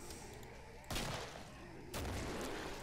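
Two sharp, loud grenade explosions in the Killing Floor video game, about a second apart, each a sudden broadband blast that rings on with a noisy tail.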